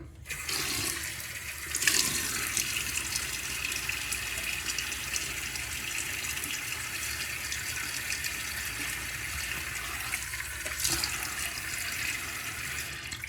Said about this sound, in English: So let me get my face wet.